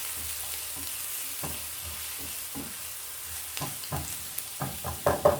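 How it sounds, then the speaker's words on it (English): Garlic and onions frying in a pan, a steady sizzle with spatula scrapes and stirring knocks that grow louder and more frequent toward the end, close by with no talking. "once my onion is ready, I'll just go in with my garlic. Stir for around 2 to 3 minutes."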